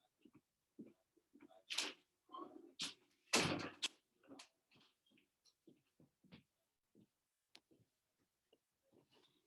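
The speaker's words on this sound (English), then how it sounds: "I'm going to shut the door" A door is shut indoors, giving a few sharp knocks and a solid close among scattered quiet clicks and handling sounds, with no voices during it.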